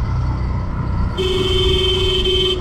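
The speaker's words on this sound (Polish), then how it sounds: "No i oczywiście trąbienie tego nie może zabraknąć, to musi być obowiązkowo." A loud, sustained vehicle horn blares suddenly over busy traffic noise near the Taj Mahal in India and holds for over a second.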